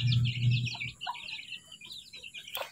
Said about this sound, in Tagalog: Pinakawala na yung mimong sisiw dito.